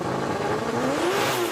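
A drift car's engine revs at a Drift Masters 2025 competition in Spain, a strained, rising engine note that climbs steadily over about a second and a half against a dense mechanical roar.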